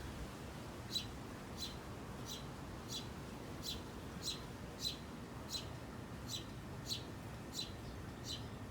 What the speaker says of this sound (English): Oh, the birds playing.